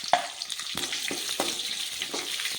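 Curry leaves dropped into hot oil for a tomato curry crackle and sizzle with several sharp spitting pops and a continuous hiss, close and fairly loud, with no talking.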